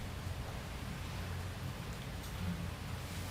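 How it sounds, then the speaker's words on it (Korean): Steady broadband hiss of heavy rain falling continuously, with a low rumbling undertone and no voices. "빗소리 들리죠?"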